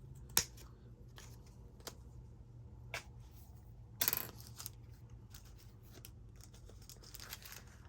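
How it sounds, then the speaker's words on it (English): Scissors cutting the end off a piece of pink material, a few sparse sharp snips and one brief rustling crunch at close range in a quiet room, with no talking. "I'm going to cut this end off just so I have all the pink part left"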